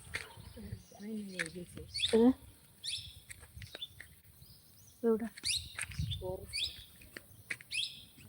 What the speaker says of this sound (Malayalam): കിളികളുടെ ശബ്ദം